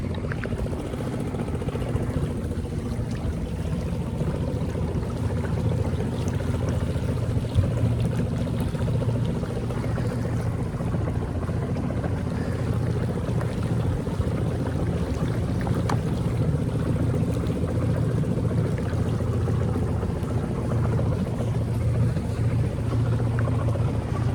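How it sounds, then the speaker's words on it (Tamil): A steady, low engine drone and water wash continue throughout a boat ride on the Alappuzha backwaters, loud and unbroken, with no one talking. "நான் போட்டில் நின்றுட்டு வந்துட்டுருக்கேன்."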